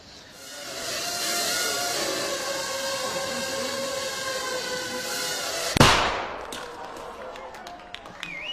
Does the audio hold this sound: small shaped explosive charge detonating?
yes